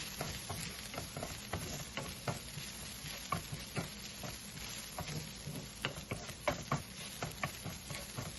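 Chicken coated with turmeric is stirred and mixed in a pan, giving a low, soft sizzle with a steady run of sharp spoon clicks and scrapes that repeat every half second or so, and no talking.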